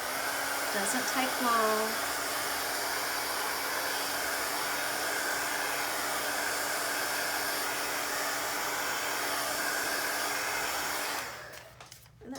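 A heat tool blows a steady, loud airy roar over paint on mixed media tags, running without pause for about eleven seconds before switching off; a voice speaks briefly near the start.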